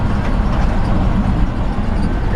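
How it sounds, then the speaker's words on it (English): A 1948 Ford F1 truck with original gears rolling down the road, a steady low rumble of engine and road noise with faint squeaks and rattles from underneath, continuous and close. "You can hear a little squeaking or rattling of something underneath the truck."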